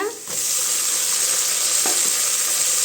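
Tomatoes fry in a pan for kai sadam, a Tamil mixed vegetable rice, with a steady, loud sizzle and hiss that carries on without a break and a faint stir or two, with no voices.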